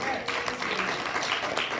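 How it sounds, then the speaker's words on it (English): A church congregation claps its hands in steady, continuous applause, a dense wash heard throughout under a preacher's voice and crowd noise. "you ought to clap your hands and give him"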